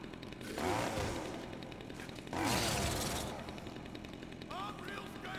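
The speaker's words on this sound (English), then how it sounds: "Ooh, a chainsaw." A chainsaw revs in Dead Rising 2, rough loud bursts surging twice and dropping back to a grinding idle, heard under game noise and background clatter.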